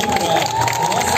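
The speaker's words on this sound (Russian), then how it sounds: "Встречайте нашими бурными аплодисментами выпускников 11 В-класса." Applause and crowd noise for graduates at a school graduation ceremony, a dense steady patter of clapping from a large audience with a voice over it.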